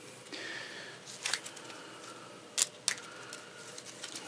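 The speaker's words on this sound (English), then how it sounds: "Alright, shuffling it up." Cards from a crisis deck for an XCOM board game are shuffled close up, with a few short, crisp riffling bursts and snaps over a quiet room.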